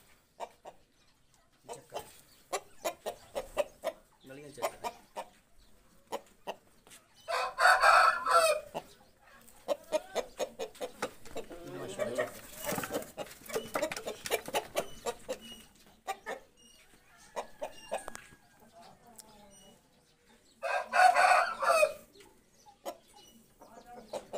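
A rooster clucks and mutters up close, with two loud crowing bursts about thirteen seconds apart.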